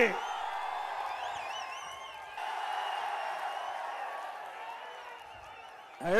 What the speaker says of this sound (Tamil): இந்த வேடசந்தூர் பேரூராட்சியில் குழுமி இருக்கின்ற மக்களுடைய ஆரவாரம் மகிழ்ச்சி சாட்சி